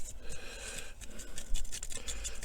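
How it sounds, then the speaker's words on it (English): A paintbrush carrying very little light paint scrubs over raised wooden ridges, giving a faint, close, dry scratchy rasp in quick irregular strokes with no voices. "I'm just very little bit of paint, and I'm just going over with kind of a scrubbing motion"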